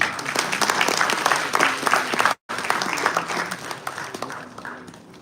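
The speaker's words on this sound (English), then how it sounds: "Round of applause, please." Audience applause at a university event in India, dense steady clapping from a large crowd, briefly cut off by a gap of silence before continuing and gradually tapering.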